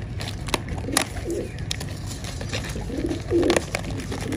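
Pigeons coo in a few soft, rounded phrases at close range, the calls repeating over a busy background of rustles and faint clatter.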